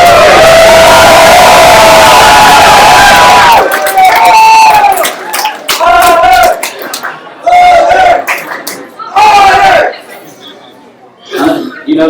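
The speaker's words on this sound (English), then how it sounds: "we need to hear a big Otters cheer" A crowd at a soccer club press event shouts and cheers loudly, one sustained roar followed by a series of shorter bursts of whoops and yells with talk between them.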